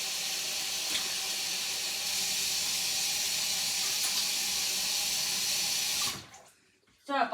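Hands are washed under a running kitchen tap, with a steady, loud rush of water for several seconds that stops abruptly, followed by a brief voice.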